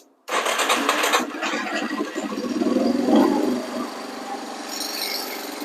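A neglected Yamaha Warrior 350 ATV engine catches abruptly and runs with a rough, uneven mid-range drone, swelling briefly before sagging to a weaker idle as it falters, close and loud with no talk.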